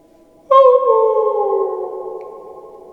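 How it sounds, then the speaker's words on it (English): A lone wolfish howl rises sharply on a quiet night and then trails off slowly, loud and close, with a long fading tail and no voices around it. "A wolfish howl, clearly something's form of bait, disturbed the silent night."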